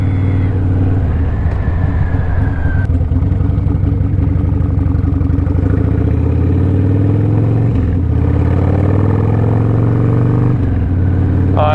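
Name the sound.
motorcycle with shorty bagger exhaust pipe running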